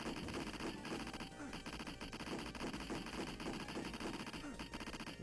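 Rapid arcade gunfire from the 1989 shooter Dynamite Duke, a dense continuous stream of shots and impacts over loud game music, with a voice talking underneath.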